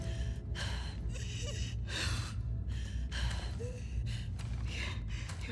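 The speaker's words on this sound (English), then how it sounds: "Your breathing's worse." A character in The Last of Us Part II breathes in labored, ragged gasps, repeated heavy inhales and exhales at a steady rhythm, close and clear over a low hum.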